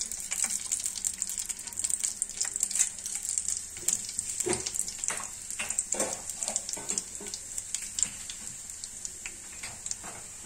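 Bay leaf, red chillies and cumin sizzle in hot oil, a steady bright crackle with scattered pops and spits throughout, close and moderately loud with no talking.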